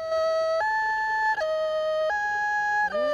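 A voice imitates a fire engine siren, wailing back and forth between two pitches in a steady hi-lo cycle, loud and up close, with no talking.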